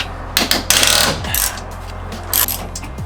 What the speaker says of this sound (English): You'll probably need a big enough wrench because this is going to be tight.